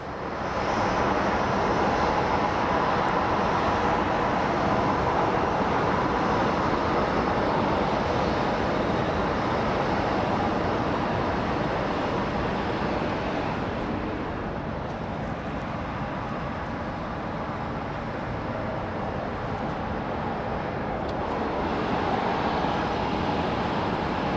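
A Bombardier jet rumbles at Sky Harbor International Airport, a continuous loud engine roar with a broad steady wash of noise that eases slightly midway and swells again, heard from a distance with no talking.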